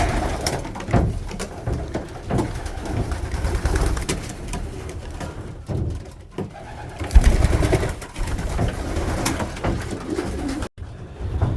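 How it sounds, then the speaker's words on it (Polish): Several female pigeons coo on and off for a long stretch, low rolling murmurs nearby, mixed with occasional knocks and rustling. "Mamy gołębniczek, samiczek."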